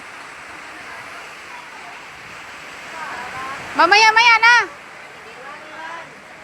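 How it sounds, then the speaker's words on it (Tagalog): Strong wind in heavy rain rushes as a steady broadband roar, while someone speaks briefly in the middle. "Lakas ang hangin"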